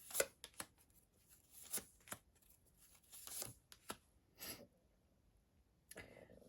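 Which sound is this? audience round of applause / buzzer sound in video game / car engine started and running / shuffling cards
shuffling cards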